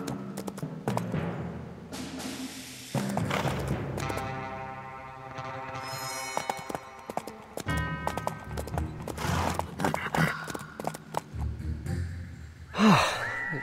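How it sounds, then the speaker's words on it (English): Horse hooves clip-clopping with whinnies, snorts and a jump in the Leisure Suit Larry video game, rhythmic game sound effects with music-like tonal layers and a sharp thump near the end. "Use the action button to make the horse jump."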